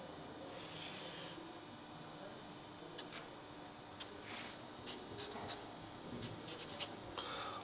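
A pencil scratches along a ruler while drawing a straight line for a geometry construction of a parallelogram, a soft close scraping that comes in a longer stroke and then several short quick strokes.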